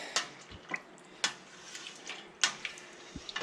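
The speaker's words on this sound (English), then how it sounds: "we'll stir our curds up here" Cheese curds stirred in a pot during home cheesemaking, a quiet sequence of light clinks and watery sloshes from a spoon, with a few sharper taps spaced over a few seconds, close and soft, with no talking.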